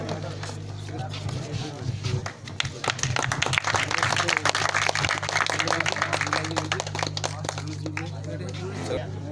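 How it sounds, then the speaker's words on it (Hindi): Crowd applause and clapping at a rural cricket tournament welcome ceremony in Chanoudgarh, steady and dense throughout, with a loud announcer's voice and music over it. "तालियों के साथ जोरदार स्वागत"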